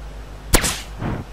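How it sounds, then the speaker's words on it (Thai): A single sharp gunshot rings out in the survival video game DayZ, loud and close, followed by a fainter second report about half a second later. "วิธียิงปืน มา โดนกูแน่ กระสุนไม่แค่สามนัด"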